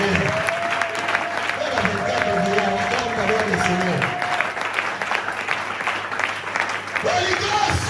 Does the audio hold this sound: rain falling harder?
no